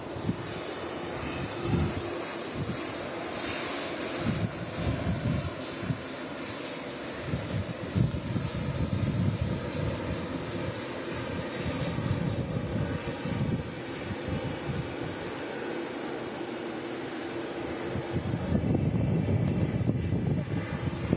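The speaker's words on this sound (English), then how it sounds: "the wind is really picking up" Strong wind from Storm Agnes buffets the microphone at Manchester Airport, a loud continuous rumbling roar with gusty surges and a low jet-engine drone underneath, building louder toward the end.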